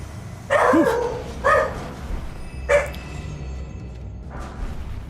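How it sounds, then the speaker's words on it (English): A dog barks indoors in three short loud bursts, evenly spaced a second or so apart, then a fainter fourth bark follows after a pause, each bark sharp and near over low room hum. "Let me go see what the dog's barking at."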